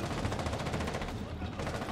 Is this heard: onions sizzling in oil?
no